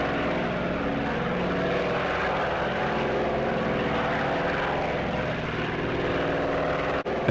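Boeing B-17 Flying Fortress propeller bomber in a flight simulator game, a steady loud drone of piston engines and propellers running continuously without letup, with no voices.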